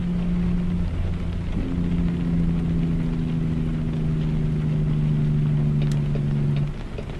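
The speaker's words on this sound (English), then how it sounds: "that rain is loud" Heavy rain in American Truck Simulator drums steadily and loudly against the truck, a dense constant hiss over a low engine hum that runs on for several seconds without talk.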